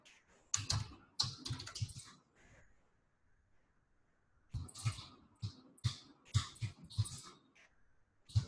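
Bursts of rapid clicking from computer keyboard typing, close and fairly loud, in two spells separated by a quiet pause of about two seconds, with no voices.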